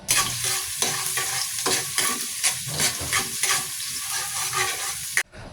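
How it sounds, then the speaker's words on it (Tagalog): Garlic sautéing in hot oil in a pan, a steady loud sizzle running throughout with repeated scraping stirs of a utensil, ending abruptly near the close. "Pag mainit na, ilagay na natin itong bawang, igisa lang natin to hanggang sa lumabas yung aroma"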